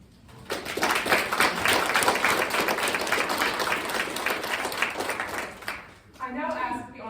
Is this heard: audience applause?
yes